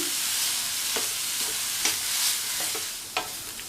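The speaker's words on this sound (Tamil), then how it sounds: "இந்த கேரட் துருவல், தேங்காய் துருவல் ரெண்டுல உள்ள ஈரப்பதம் போகிற அளவுக்கு வதக்கிக்கலாம்" Grated coconut and carrot sautéed in a pan, a constant frying hiss broken by a few sharp spatula scrapes and taps spaced irregularly.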